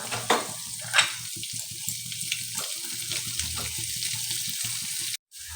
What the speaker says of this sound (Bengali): নিমের ফুলটা আমি একটু তেলের মধ্যে ভেজে নেব